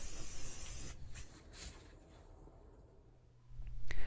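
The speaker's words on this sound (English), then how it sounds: "Apply the spray paint evenly from a 6-inch distance" Aerosol spray paint hisses in short bursts over a Star Wars diorama floor, loud at the start, easing to a quieter steady hiss, then swelling again near the end with a few light clicks.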